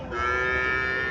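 A Haryana dairy cow at a cattle market lets out a single loud, sustained moo, close by and filling the whole moment.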